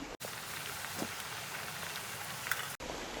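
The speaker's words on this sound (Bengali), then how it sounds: "এখন আমি পিঠেগুলো তেলে ভেজে নেব। তেলে দিয়ে দিয়েছি।" Palm-juice pakon pitha fry in hot oil, a steady faint crackling sizzle with scattered pops, heard alone without voices.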